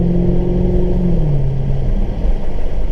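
A supercharged V8 engine of a Holden HSV GTSR rumbles loudly and steadily in Galston Gorge, its pitch rising then dropping as it revs, close by with no talking.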